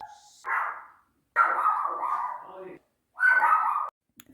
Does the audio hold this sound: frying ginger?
no